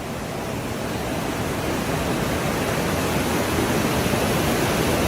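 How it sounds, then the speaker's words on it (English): Flash flood water pours over waterfalls into tunnels in Las Vegas, a loud, dense, continuous roar that holds steady with no voices. "Look at those waterfalls."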